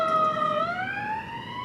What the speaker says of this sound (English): I'm letting the siren just go past there.